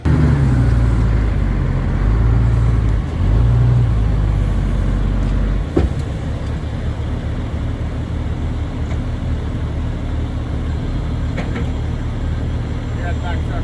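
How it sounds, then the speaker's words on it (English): A heavy loader's engine rumbles steadily nearby in the snow, a deep continuous drone that swells at the start and eases slightly after a brief knock, while people talk over it. "we're getting the loader and we'll put her down."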